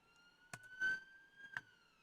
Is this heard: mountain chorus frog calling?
no